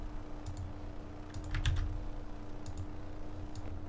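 Light clicks of a computer keyboard as content is typed, a few soft scattered keystrokes clustered in short bursts over a low steady hum.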